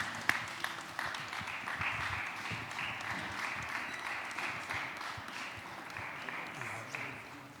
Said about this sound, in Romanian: Please, standing ovations.